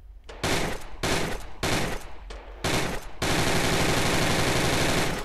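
Gunfire in GunClub VR: several short, loud bursts of automatic fire separated by brief pauses, then one long continuous volley, close and harsh with no talking.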